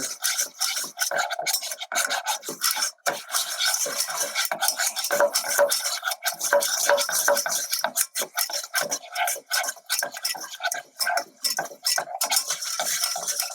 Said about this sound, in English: You take a whisk and you whisk the butter. You constantly whisk it so it doesn't burn.